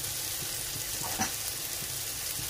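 Onions for a cheese masala dosa filling fry in a pan, giving a soft, continuous sizzle with a faint clink partway through and no talk.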